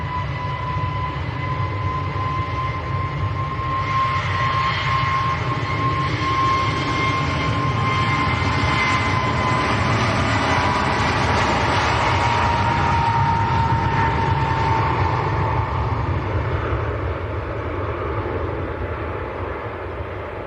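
An Airbus A321neo at Manchester Airport produces a steady, sustained engine roar with a faint whining tone. The sound stays at an even, moderate level for about twenty seconds.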